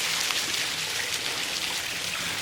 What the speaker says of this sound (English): There's the creek flowing down from where we were up there